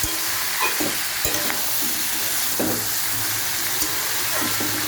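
Food sizzles in a pan with salt and turmeric while a utensil scrapes and stirs it in irregular strokes, moderately close and steady, with no talking.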